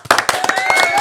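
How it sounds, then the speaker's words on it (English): A small group on a podcast set claps in a brief, uneven burst of hand claps, close and fairly loud, with a faint voice running underneath. "Let's go round of applause for that."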